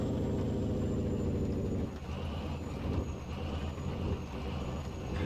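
Truck air brakes in American Truck Simulator, Australia map, rainy road: a loud hissing release over a deep engine rumble, which gives way to steady road and rain noise.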